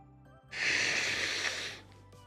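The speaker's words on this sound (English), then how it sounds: "let me blow my nose" A person blows their nose with one loud, breathy honk lasting over a second, close to the microphone, after a brief faint sound.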